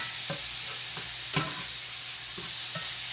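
Potato hamburger casserole stirred in a pan after a pinch of table salt goes in, with a low sizzle underneath and a few distinct spoon scrapes and knocks, one louder than the rest, close and without speech.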